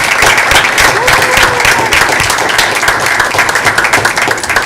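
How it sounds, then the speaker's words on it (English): A crowd at a school board meeting claps loudly and continuously, a dense, close patter of many hands with a few faint voices mixed in underneath. "Can we clap for them?"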